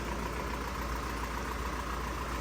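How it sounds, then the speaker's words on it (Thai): Steady engine idle with a constant low rumble and broadband hum, no start-up visible, continuous throughout. "สตาร์ทเครื่องแล้วนะ"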